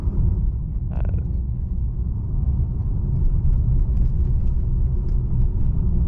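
2018 Mercedes-AMG E43 tuned by RENNtech rolling over rough pavement, a loud continuous low road rumble and tire drone heard from inside the cabin, with one faint tick near the start and no talk.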